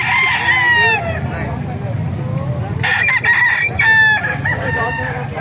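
Several roosters crow one after another at a chicken market in Calumpit, Bulacan, loud and close, with overlapping calls and a steady low rumble of background noise.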